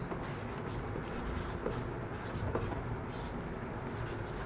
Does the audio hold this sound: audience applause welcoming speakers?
no